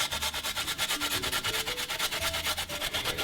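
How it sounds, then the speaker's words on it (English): Fresh ginger is finely grated for guava cheese, making a rapid, steady scraping against the grater at close range, with no one speaking. "I'm going to finely grate some ginger"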